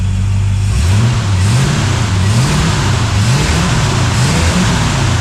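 A 454 big-block V8 in a K5 Blazer, freshly swapped in and primed, revs steadily up and down in repeated swells, loud and close, with a deep throbbing rumble and no talk over it.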